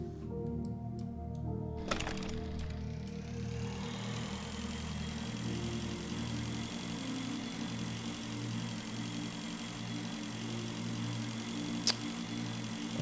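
A video-game engine idles in a steady, droning hum with a low rumble throughout, opened by a few sharp clicks and metallic taps. The sound is continuous and moderately loud, with no speech.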